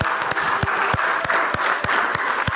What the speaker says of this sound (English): We should put our hands together and praise God with a hand clap of praise.